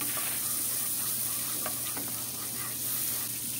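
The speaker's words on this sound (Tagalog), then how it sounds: "Buhayin lang ho natin ang ating kalan sa low heat at tutunawin ho natin din ang" Butter sizzles softly in a pan on a stove over low heat, a steady low crackle and hiss heard up close with no talk.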